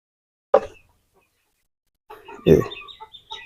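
Backyard desi chickens cluck while eating grain feed, with a short burst near the start and a cluster of clucks and soft calls toward the end, separated by a quiet gap.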